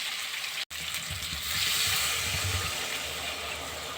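Water hits a pan of fried potatoes and boiled eggs after a brief cut, and a broad hissing sizzle swells and then settles into a steady bubbling simmer, with no voices.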